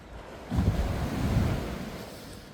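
Sea waves wash in at high tide near a beach house in Phetchaburi, Thailand, a soft rushing surge that swells and fades over wind noise, heard alone.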